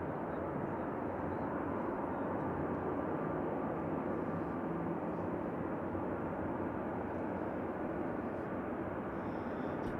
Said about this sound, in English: Airbus A319-100 going to Helsinki.